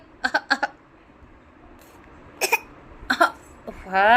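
A child coughs in short bursts, a pair of quick coughs, then more a couple of seconds later, with a voice starting up at the end.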